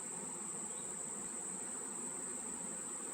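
Bees buzzing around a beehive brood box, a continuous, even insect drone with a thin high whine, moderately faint and unbroken, no voices.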